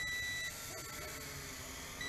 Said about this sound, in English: the annoying headless mode beep